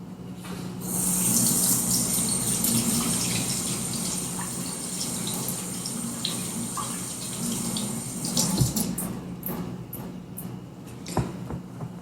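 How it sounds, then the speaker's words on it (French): Tap water runs steadily from a faucet as hands are washed in a home kitchen while baking biscuits, a continuous close hiss with a few clinks and splashes near the end. "On va se laver les mains."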